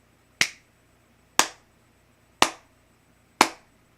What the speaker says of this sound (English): that was an actually slow clap for him